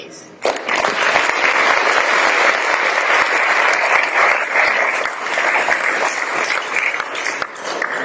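A debate audience bursts into loud, sustained applause to welcome Peter Hitchens to the stage. Dense clapping starts abruptly and holds steady for several seconds.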